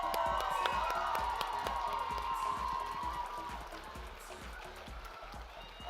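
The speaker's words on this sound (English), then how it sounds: "another round of applause for all our wonderful competitors" Audience at the Miss Indigenous Canada 2024 pageant claps and cheers for the competitors, a dense, continuous crowd roar with whoops over a steady low rhythmic pulse.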